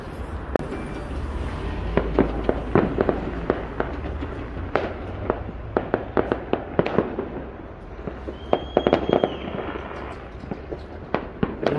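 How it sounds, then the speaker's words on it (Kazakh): Fireworks and firecrackers burst at New Year in Saryagash, a dense stream of sharp pops and bangs, some near and loud, others distant, with crackling rattles and a brief whistling rise near the end. "Қазір міне салюттар жай атылып бастады."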